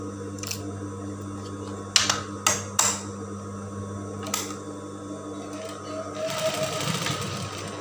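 A sewing machine stitching woven tenun fabric for an outer garment, with several short, sharp mechanical bursts and clicks in a quiet room, then a longer steady run of stitching near the end.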